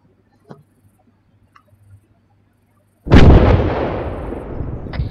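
A detonated demolition charge in the military video game ARMA 3. Near silence with a few faint ticks gives way to one sudden, loud, close blast whose booming rumble slowly fades over the next two seconds.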